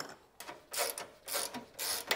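A hand ratchet snugging suspension bolts on an Isuzu D-Max fitted with an alignment adjustment kit, three short quiet bursts of rapid clicking spaced evenly apart, close by with no talking.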